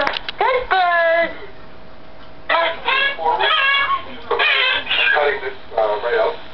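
A pet bird vocalizes in loud, close bursts of harmonic whistling and chattering calls, repeated several times with brief pauses between.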